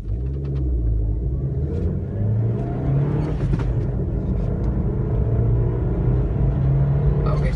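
A Maruti Dzire car accelerates from standstill to 60 km/h on an empty stretch of road, heard from inside as a steady, loud engine rumble that rises through the gears without a break.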